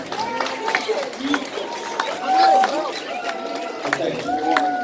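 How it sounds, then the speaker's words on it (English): Middle school campers at a winter camp giving a round of applause, lively clapping from a group mixed with chatter and talk over it, moderately loud and close. "That's a round of applause."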